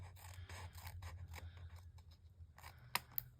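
Scissors trim the white edges off a piece of paper in a few faint, quiet snips and scrapes, with no one talking.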